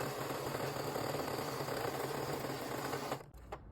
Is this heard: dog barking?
no